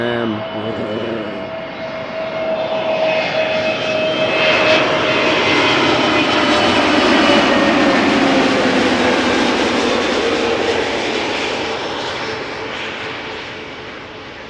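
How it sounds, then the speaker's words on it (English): An EasyJet Airbus A320neo arriving from Birmingham passes close at Schiphol Airport with a loud, whining jet engine roar that swells to a peak midway and then slowly fades. "A320neo EasyJet arriving from Birmingham"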